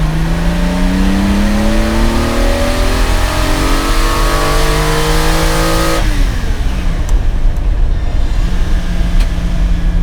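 Lamborghini Miura S, a fully restored Italian supercar, accelerating hard on a straight: a loud, close engine note climbing steadily through the revs for several seconds, then an abrupt drop to a steadier, lower drone with wind and road roar.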